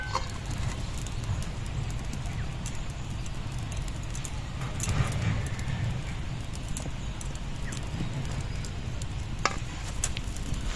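Pitha cakes cooking in a covered pan, a steady low sizzle and crackle running throughout with scattered small clicks, close and without talk.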